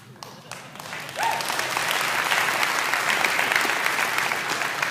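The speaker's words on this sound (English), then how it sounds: "And if you didn't clap, you should have." Applause swells from a crowd at a talk about poverty, building after a quiet start into a sustained, full round of clapping.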